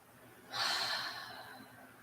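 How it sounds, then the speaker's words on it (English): A single deep, audible breath is taken during a guided tapping meditation, soft and close, rising and then slowly fading in an otherwise quiet room. "Just breathing."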